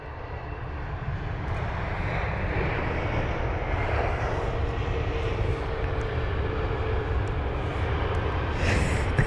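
A British Airways A320neo airliner touches down at London Heathrow with a slight bounce, its steady, broad engine roar loud and continuous throughout, with no talk over it.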